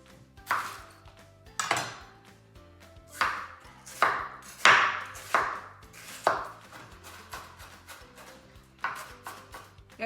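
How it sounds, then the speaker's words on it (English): Onion being chopped with a knife on a cutting board while making a keto crustless quiche, a series of crisp, close knocks in irregular bursts with short pauses between. "We're going to need half a cup of each chopped. Starting with my onion."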